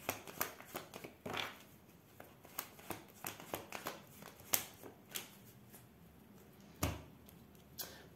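Cards shuffled for a tarot reading, a quiet series of irregular crisp slaps and riffles, close by and faint, with pauses between bursts and no voices.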